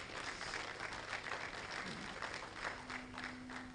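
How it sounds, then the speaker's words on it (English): Steady, dense applause from a conference crowd at a closing ceremony, many hands clapping continuously at a moderate distance with no pauses. "So let's give them a round of applause."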